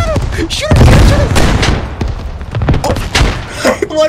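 Shots crack amid a firefight in an insurgent shooter set in Fallujah, loud irregular single reports and thuds under frantic shouting voices.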